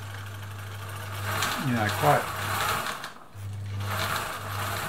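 A Husqvarna Viking Automatic 21e sewing machine runs at normal speed with a steady, fast mechanical hum, interrupted briefly mid-clip and then resuming, while a person talks over it.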